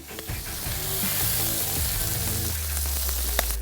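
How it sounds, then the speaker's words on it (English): A brioche bun toasts in garlic butter on a Blackstone griddle, crackling and sizzling steadily up close, with a low rumble settling in partway through and a sharp pop near the end. "We're going to toast up our bun."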